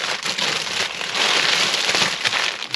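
Plastic parts bags from an Imar Models mechanical shark brick kit crinkle and rustle continuously, close and fairly loud, with no talking.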